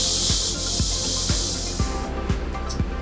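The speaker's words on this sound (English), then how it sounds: "we're going to allow the airbags for the chassis to vent" Air hisses steadily and loudly as the chassis airbags of a PG&E MCU command vehicle vent, with a few low thumps and knocks breaking through the continuous rush.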